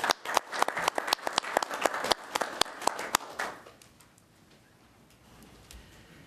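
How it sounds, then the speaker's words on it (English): A small group at a county commissioners meeting gives a short round of applause, sparse distinct claps for about three seconds, then fading into quiet room tone. "Let's give him a round of applause."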